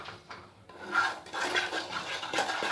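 A spoon scraping and rubbing as a mixture is stirred in a bowl, a steady close rasping texture with soft irregular strokes, alone and without voices.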